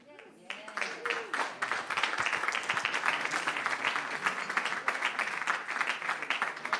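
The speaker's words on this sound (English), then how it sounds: "And I'm sure she thanks you too, for she could hear the applause." Audience applause at a women's football event, a dense stretch of steady clapping that starts after a brief lull and carries at a strong, even level for several seconds.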